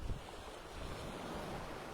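Waves lap steadily at the water's edge in Lerwick's old town harbour, Shetland, a continuous close wash of surf mixed with wind buffeting the microphone, with no voices.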